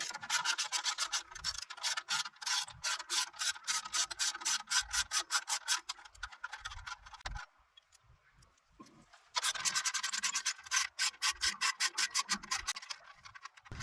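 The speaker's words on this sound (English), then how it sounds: "We're going to go ahead and remove these two outer bolts" A ratchet removes bolts on a 2020+ Chevrolet Silverado 2500/3500 HD truck, with two long bursts of rapid, evenly spaced clicking separated by a quieter pause, close up and with no talking.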